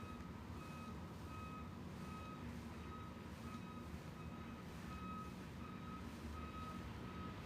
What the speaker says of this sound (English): it's a giant truck backing up that I can see